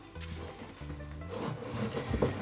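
Bread dough is stirred again just after salt is added, producing soft, wet scraping and rubbing strokes that come close and quiet in short, irregular bursts with no voices.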